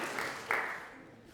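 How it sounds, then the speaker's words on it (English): Audience applause in a concert hall at the Royal College of Music, a brief swell of clapping that rises sharply midway and then tapers off, fairly distant with no speech over it. "Round of applause, please."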